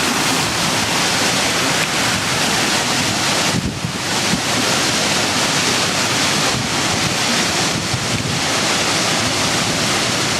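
Strong storm wind roars loudly and continuously outside an apartment during a near-tornado storm strong enough to snap trees, a dense, unbroken rush of noise with gusty surges and no voices.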